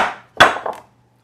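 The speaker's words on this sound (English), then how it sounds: "So grab a little Warrington hammer" A small Warrington hammer knocks on wood during work on a tape loom, giving a couple of sharp close taps with a short ring, followed by quiet.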